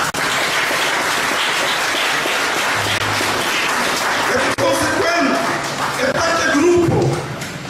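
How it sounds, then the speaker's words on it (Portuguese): Steady applause from a crowd at the inauguration of a church group, loud and continuous, with voices rising through it toward the end. "Nós também temos um aplauso para ele."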